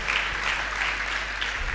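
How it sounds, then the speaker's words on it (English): A choir audience at a holiday resort's Saturday night show claps in a brief burst of applause, a soft, even patter of many hands. "Give Sally a round of applause."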